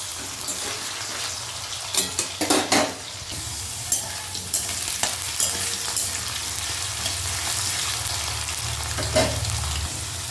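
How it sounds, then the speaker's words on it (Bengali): Small diced potatoes frying in oil for a jackfruit curry, a continuous close crackling sizzle with a cluster of sharp spatula clinks and stirring scrapes early on, steady and unbroken by speech. "দিয়ে আলুটা একটু ভেজে নিচ্ছি আগে তেলে।"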